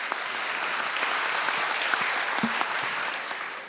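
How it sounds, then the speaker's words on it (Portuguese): An audience at a panel discussion on the collaborative economy breaks into steady applause. The clapping is dense and even and carries on for a few seconds without any talk. "aplauso"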